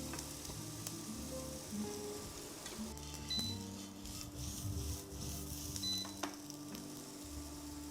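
Rice searing in a hot pan before any liquid is added, a soft steady sizzle with light stirring scrapes and small clicks, fairly quiet and without talk.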